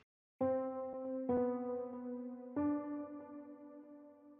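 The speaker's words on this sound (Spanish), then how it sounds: "tengo un piano que saqué del Nexus" Sampled piano from the Nexus plugin: notes struck one after another, three chords each ringing out and slowly fading, clear and alone.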